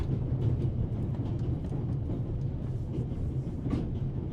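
A train runs in the video game The Raven Remastered, a continuous low rumble of wheels on rails with faint intermittent clicks, steady and enclosed, with no voices over it.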